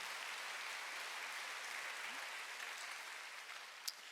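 Steady applause from a church congregation at a Wednesday worship service, a broad, even wash of clapping held at moderate distance throughout with no voices over it.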